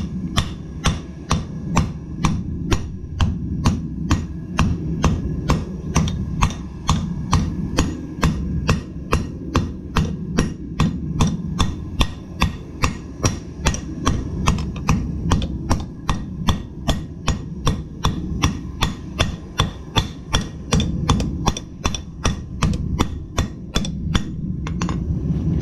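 A cross peen hammer strikes a hot billet during forging in a steady, rapid series of dozens of sharp ringing blows. The hits are close and loud, with no talk over them.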